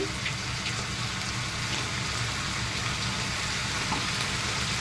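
Mushrooms sizzle steadily in a pan after garam masala goes in, a constant close frying hiss with faint scraping of stirring and no voices.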